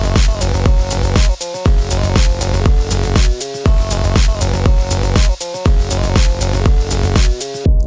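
Loud glitchy EDM plays on its own, with a pounding regular beat, dense synth layers and abrupt stuttering cut-outs in which the sound drops away for an instant every couple of seconds.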